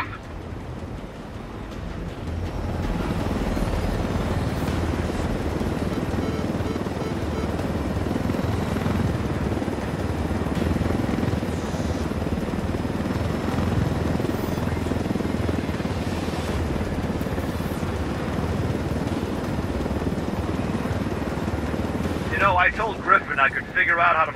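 A helicopter in Tom Clancy's Ghost Recon Wildlands video game, a loud steady rotor and engine drone that rumbles continuously for over twenty seconds, with voices talking over it.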